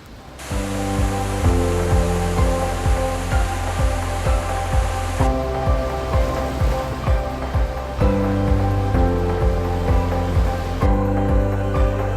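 A steady, heavy roar of rushing water fills the clip without a break, a waterfall along the Road to Hana on Maui heard from nearby, with a low tonal hum underneath.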